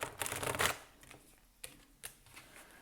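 Tarot cards drawn and handled at a reading table, a close crisp riffle of shuffling followed by a few soft flicks and taps as single cards are pulled and laid down.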